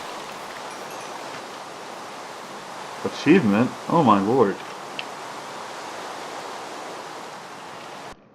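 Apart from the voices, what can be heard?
rain in a video game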